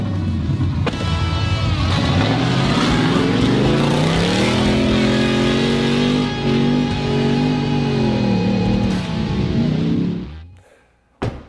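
Ford Raptor trucks tear around a dirt track, engines roaring loudly and steadily with rising and falling revs for about ten seconds before cutting off abruptly.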